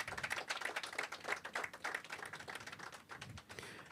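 Applause at a government press conference in Anguilla, honoring the Governor: a quiet, steady patter of hand claps from a small audience, moderately distant, with no talking over it.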